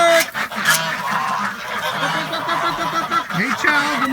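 Geese and ducks honking and quacking inside a barn, a dense overlapping chorus of calls near and loud throughout, with a person's voice briefly among them.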